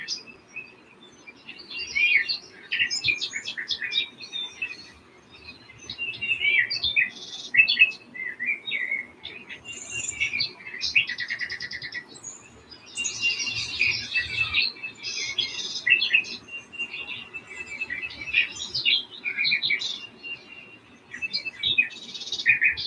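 Many small birds chirp and sing continuously on a sunny, chilly day, a busy overlapping chorus of bright tweets and trills at moderate distance with no talking.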